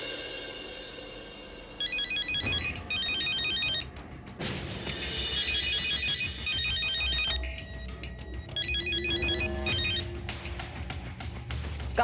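A phone ringtone rings in repeated electronic bursts over a background of music and bangs, steady and fairly loud.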